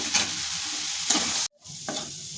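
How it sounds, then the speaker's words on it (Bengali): Onion and soaked matar dal fry in a pan, and a spatula stirs them. The sizzle is steady with periodic stirring scrapes, cut by a brief silent gap, close and moderate in level, with no talking. "আমি এটা দিয়ে ভেজে নেব ভালো করে নাড়াচাড়া করে নেব"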